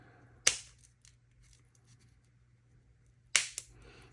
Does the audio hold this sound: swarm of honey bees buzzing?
no